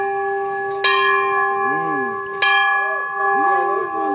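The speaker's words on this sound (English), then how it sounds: "Now we'll ring the bell for dessert." A dinner bell at an outdoor learning center rings twice with bright metallic strikes whose tones hang and ring out, while people chatter softly in the background.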